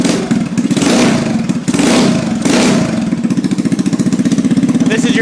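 A GY6 scooter engine fitted with a plug-and-play carburetor revs up in several loud surges, then settles into a rapid, steady putter near the microphone; no one speaks over it.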